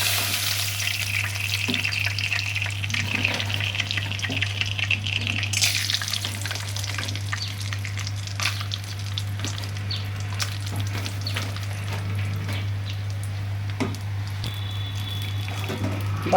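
Hilsa fish heads and peanuts fry in a pan with oil, giving a steady, dense sizzle and crackle throughout, alongside occasional stirring scrapes and a constant low hum.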